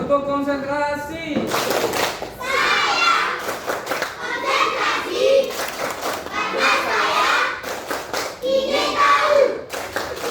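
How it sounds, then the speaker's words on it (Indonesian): Group of children in a classroom performing a rhythmic concentration clap, bursts of patterned hand claps alternating with chanted voices, close and lively, with a teacher's voice at the start. "Tepuk konsentrasi."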